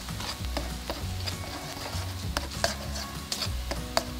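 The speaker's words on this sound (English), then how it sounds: "give them a stir and cook them until they start to scramble" Eggs with dark soy sauce stirred in a wok as they begin to scramble, a low sizzle under clattering spatula knocks and scrapes against the pan, with sharper taps near the end.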